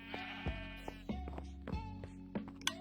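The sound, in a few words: sheep bleating in a video game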